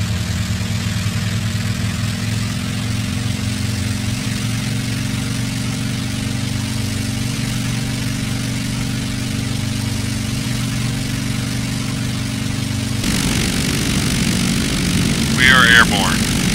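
The engine of a Douglas SBD Dauntless in a flight simulator runs through takeoff as a steady propeller drone. Its tone changes and roughens near the end.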